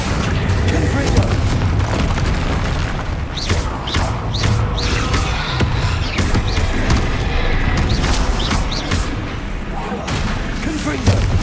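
Repeated Confringo spell blasts in the Hogwarts Legacy video game, a steady run of loud booming bursts with crackling impacts over dense combat noise throughout.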